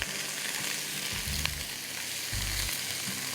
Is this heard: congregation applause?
no